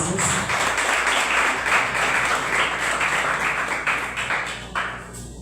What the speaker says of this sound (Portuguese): Vamos receber com palmas para Jesus.